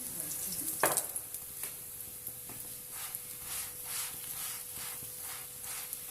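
An onion paratha fries on a griddle with a soft, steady sizzle that swells and ebbs in gentle pulses, with a sharp clack near the start and a few lighter taps.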